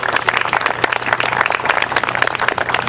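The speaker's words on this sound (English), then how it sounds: "give yourself a big round of applause for this wonderful organization" An audience at a Columbus Day ceremony breaks into loud, dense applause that runs unbroken throughout, with a faint steady hum beneath it.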